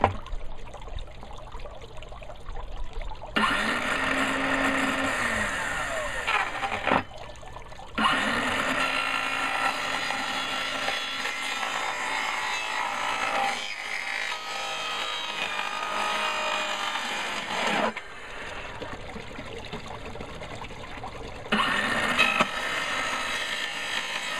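A plastic swirl filter cover being cut by hand with a tool, giving a steady rasping, sawing scrape that runs in long stretches with a few short pauses, close and fairly loud, with no talking.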